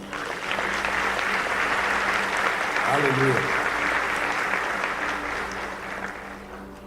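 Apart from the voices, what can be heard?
congregation applause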